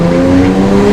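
BMW with straight-pipe catless downpipes gives a loud, raspy, droning exhaust roar, a brief continuous blast heard up close.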